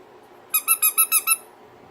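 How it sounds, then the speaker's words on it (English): A dog toy's squeaker gives six quick, evenly spaced high squeaks in a row, loud and close in an otherwise quiet room. "Oh, there's the squeaker."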